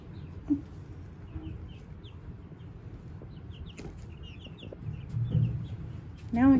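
Chickens on a farm cluck and murmur softly at close range, with scattered short calls, occasional louder squawks and a rustle near the end, all over a low outdoor rumble.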